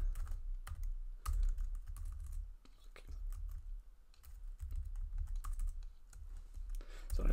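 Fingers tapping on a computer keyboard in irregular bursts of soft clicks with brief pauses between, close and fairly quiet, with a low background hum.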